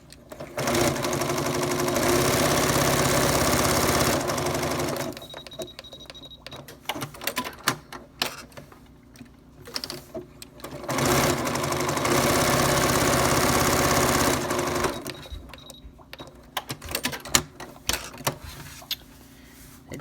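A sewing machine stitches fabric for a kids' face mask in two steady, rapid runs of several seconds each. Quieter handling noises and short clicks fill the pause between the runs.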